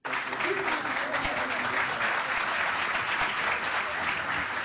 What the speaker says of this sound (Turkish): Başbakanlığa bakan Yıldırım salondakiler tarafından dakikalarca alkışlandı.